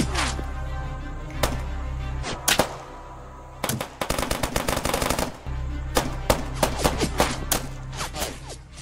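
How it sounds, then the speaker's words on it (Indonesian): A film shootout scene: scattered single gunshots crack over a low rumbling background, then a rapid burst of automatic fire lasts about a second and a half, followed by more irregular shots. "hingga pada akhirnya tembak-tembakan pun terjadi."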